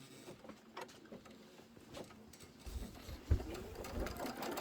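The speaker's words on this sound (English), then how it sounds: "let's just stitch out our placement line for our batting first" An embroidery machine stitches a placement line for quilt batting in the hoop while a quilt border is made, giving a soft, steady mechanical whirr with faint rhythmic needle pulses throughout, fairly quiet and alone.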